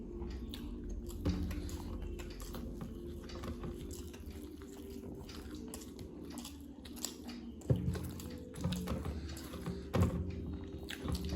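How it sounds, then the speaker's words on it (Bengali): Spicy schezwan noodles are chewed close to the mic, producing soft wet slurping and munching sounds with occasional louder bites, continuous with no talk. "আস্তে আস্তে খাচ্ছি"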